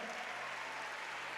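Applause in a church, a dense, steady patter of many hands clapping together, faint and distant, continuing throughout the short moment.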